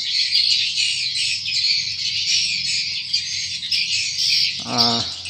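Recorded swiftlet calls play from the sound system of a swiftlet house, a dense continuous twittering chirp loop, loud and close, ending in a brief buzzing tonal burst.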